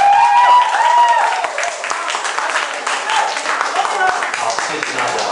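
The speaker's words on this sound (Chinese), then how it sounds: "我可不可以诚挚的邀请大家给我一点掌声" An audience at a ten-minute talk event on stage in Kaohsiung claps for the speaker; lively applause with some whistles and cheers, loud at first then settling to steady clapping.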